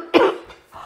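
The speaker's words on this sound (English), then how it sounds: "Oh, I just get the coughing." A single harsh cough bursts out near and loud, followed by a couple of fainter breathy after-sounds, in a quiet indoor conversation setting.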